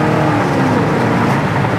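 A 1969 Pontiac GTO's engine roars close by as it accelerates hard, its pitch climbing under a constant rush of road and wind noise.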